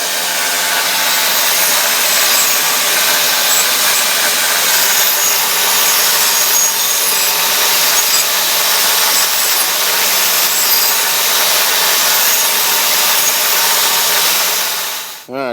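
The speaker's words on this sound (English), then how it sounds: "I can grind down the edges of my pieces of metal" A power grinder grinds down the edges of metal pieces while bracing upper control arms. It makes a loud, steady, continuous harsh whir that runs unbroken for the whole stretch and cuts off abruptly at the end.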